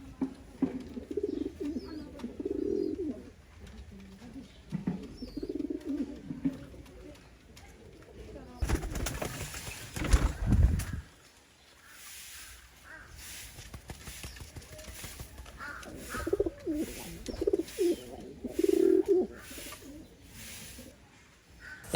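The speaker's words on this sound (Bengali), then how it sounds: "এখানে ঘুঘু পাখি দুইটাই হচ্ছে অস্ট্রেলিয়ান প্রজাতির।" Australian doves and a racer pigeon cooing in a bird farm, soft low coos in scattered bursts, close by, with a brief louder rustle midway and some quiet human talk.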